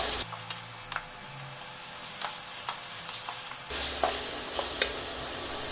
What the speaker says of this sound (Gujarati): તો હવે એમાં આપણી ખજૂર નાખી દઈશું અને એને સારી રીતે એકવાર મિક્સ કરી લઈશું